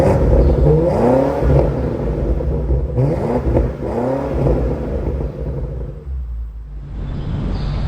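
A 2025 BMW X5 M Competition's quad exhaust revs hard and close, with several rising and falling throttle blips over a steady deep engine rumble, heard alone without any talking.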